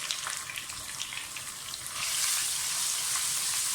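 Garlic ginger paste frying in a pan for Punjabi-style kadhi pakora, a steady close sizzle that grows louder and denser partway through, heard alone with no talk.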